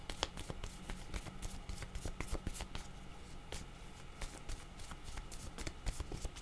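Tarot cards are shuffled close by in a quiet room, a soft continuous riffle of rapid papery flicks and taps that keeps going in an uneven rhythm, with no talking over it.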